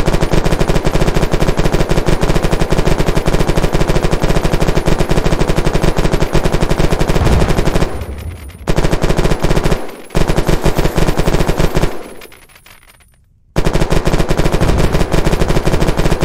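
Rapid automatic gunfire from a fast-firing, low-recoil weapon in the game Unturned, loud and sustained in long bursts with a few brief pauses and no talking.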